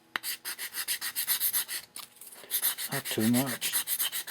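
Sandpaper rubs over glue joints on an E-flite PT-19 450 model airplane, rounding them off in quick rhythmic back-and-forth strokes, close and crisp, with a brief spoken remark partway through.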